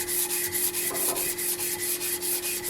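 A knife guard being hand sanded with sandpaper, close rhythmic back-and-forth rasping strokes at a quick steady pace, loud and alone.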